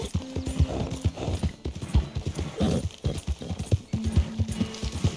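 Rhythmic clip-clop of horse hooves close by in Red Dead Redemption 2, with a horse's snorting whinny rising briefly over the steps.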